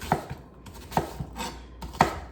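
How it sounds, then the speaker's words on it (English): A knife slices down through half an onion on a cutting board while vegetables are prepped for slow cooker beef stew: three crisp, close chops spaced about a second apart, with softer cuts between. "half of an onion. This does not have to be perfect either. Just a few slices down."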